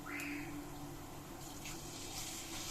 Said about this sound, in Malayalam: ഇതൊക്കെ നമുക്ക് അല്പം വെള്ളം ഒഴിക്കാം.